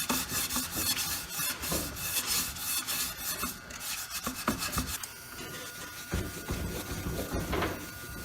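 Scotch-Brite pad scuffing an old wheel, a steady close rasping rub with rhythmic strokes continuing throughout without voices.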